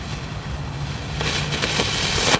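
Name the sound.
firecrackers going off inside a toy tank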